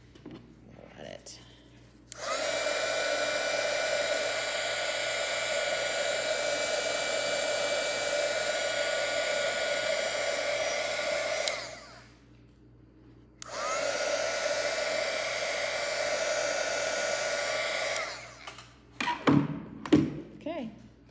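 A heat tool blows hot air to dry a card background for a hot air balloon card, a loud steady whir running about ten seconds, then a brief pause, another long burst, and a few handling clunks at the end.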